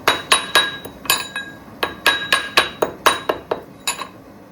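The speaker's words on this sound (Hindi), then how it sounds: "और आप इसमें ये इलायची कूट रही हूँ मैं," Cardamom pods being pounded for a brown sugar syrup for gulab jamun, a rhythmic run of about a dozen sharp, close metallic knocks with a clinking ring, loud and alone.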